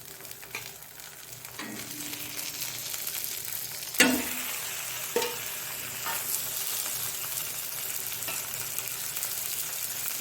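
Mackerel (bangude) frying in masala on a tawa, Mangalore style, a steady close sizzle running throughout with a few sharp clinks and scrapes of a utensil against the pan.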